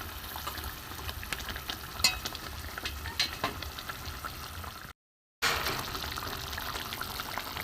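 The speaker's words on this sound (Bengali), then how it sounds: "ঝোলে একটা করে মাছ আমি দিয়ে দেবো" Fried bhola fish pieces go into a simmering curry gravy, a soft, quiet sizzle and bubbling with occasional stirring clinks, broken by a brief gap of silence.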